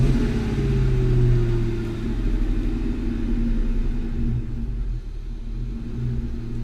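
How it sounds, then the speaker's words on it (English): A 2002 Ford Mustang GT with a P0136 fault code starts and settles into a steady, deep idle, its low engine rumble continuous and fairly loud throughout with slight fluctuations, no voices present. "So let's go and start it."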